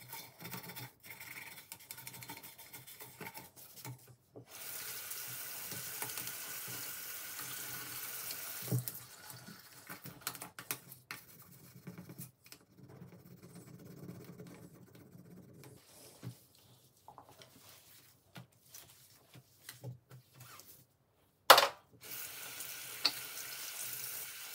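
Tap water running into a bathroom sink during cleaning, a faint continuous hiss broken by pauses, scrapes and a sharp knock near the end.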